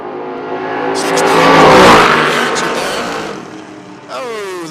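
A Mustang in a footbrake drag race roars down the track, its engine swelling loud as it passes close by and then fading, before a second revving engine rises near the end and a commentator talks over it.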